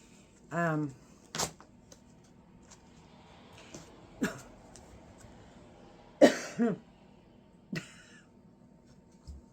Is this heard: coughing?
yes